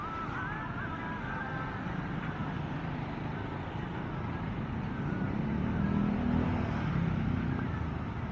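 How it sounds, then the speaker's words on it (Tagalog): Dense rush-hour traffic on EDSA in Cubao near a flyover, a steady broadband roar of car and truck engines at close range that swells slightly toward the end, with no clear voices. "Talagang traffic dyan."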